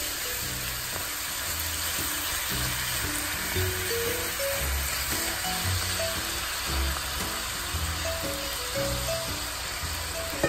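Ground beef sizzles and crackles steadily in a pan while being chopped up for homemade spaghetti sauce, with scraping and tapping of a utensil mixed into the continuous frying hiss, close by and without talking.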